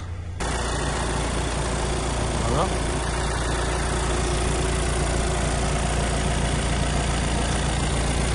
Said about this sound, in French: je vais vous montrer un petit coup de moteur